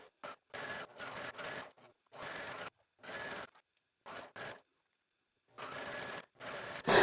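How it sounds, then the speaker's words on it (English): A serger sewing machine stitches around the edge of a fabric hood in short repeated bursts, whirring on and off with brief pauses between runs, close and fairly quiet with no talking. "Using a 3/8 inch seam allowance with a stretch stitch or even with a serger, I'm going to stitch all the way around my hood."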